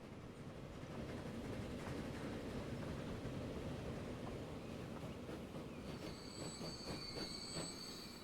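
A freight train in a video game rumbles steadily along the tracks with a continuous low roar, and high metallic wheel squeals join in toward the end.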